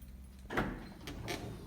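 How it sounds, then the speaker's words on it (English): A faint mechanical hum, then the power sliding door of a Chrysler Pacifica wheelchair-accessible van slides open with a soft rumbling whoosh and a second brief sliding sound, fairly quiet. "The door opens."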